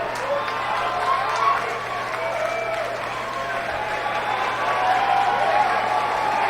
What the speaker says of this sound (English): That's a good sign they're cheering.